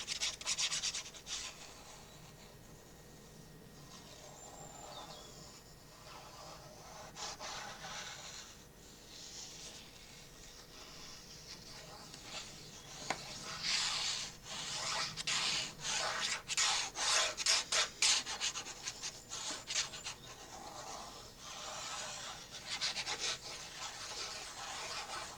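A paper cut-out is rubbed down onto a Christmas scrapbook page with a continuous soft scratchy friction that builds into faster, denser strokes midway, with no speech.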